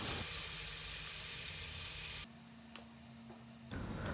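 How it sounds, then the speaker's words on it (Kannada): Onions frying in a pan for mutton biryani, a steady close hiss and sizzle filling the first couple of seconds, then dropping away to quieter low hum before the sizzle returns at the end. "ಈಗ ಮೊದಲು ನಾನು ಆನಿಯನನ್ನು ತುಂಬ ಗೋಲ್ಡನ್ ಬ್ರೌನ್ ಆಗುವವರೆಗೆ ಫ್ರೈ ಮಾಡ್ತೇನೆ"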